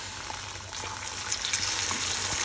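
Three spoons of water hit hot caramel for crème caramel, setting off a loud, steady hiss and crackle of sizzling that swells slightly and carries on without pause, close up, with no talking.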